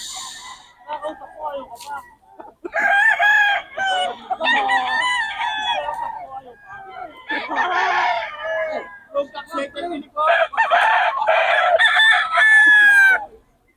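Gamefowl roosters of the Gold Sweater bloodline at a poultry market crow loudly and repeatedly, with clucking between the crows, while someone talks over them.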